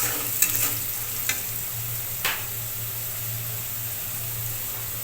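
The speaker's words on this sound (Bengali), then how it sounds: "লবণটাকে একটু মিশিয়ে নিচ্ছি।" Salt being stirred into boiled banana flower in a pan: a few soft scraping strokes over a steady low sizzle, quiet and close, with no talking.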